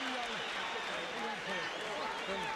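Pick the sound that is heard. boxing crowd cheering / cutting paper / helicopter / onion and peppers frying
boxing crowd cheering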